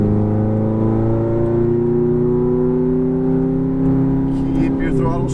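A Ferrari F430 accelerates out of a right-hand turn on a racetrack, its engine tone rising steadily in a loud, continuous pull heard from inside, with a voice speaking briefly near the end.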